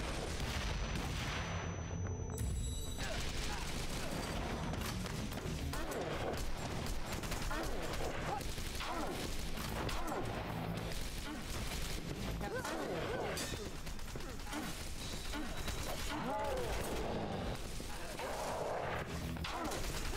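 Grenade blasts and dense gunfire fill a Wanted: Dead game battle, with continuous booming explosions, rapid shots and crashes. The sound is loud and sustained, and a person talks over it at times.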